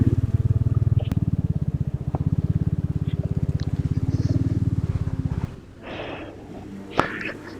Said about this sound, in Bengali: খুব ধীরে ধীরে বাইক চালাচ্ছে